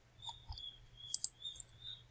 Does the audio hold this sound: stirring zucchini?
no